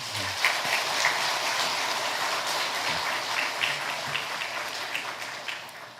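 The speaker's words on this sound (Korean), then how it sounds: "우리 한번 박수도 한번 쳐드릴까요?" A church congregation applauds the middle and high school youth group, a sustained wash of many hands clapping at moderate loudness, fairly close and even, with no one speaking over it.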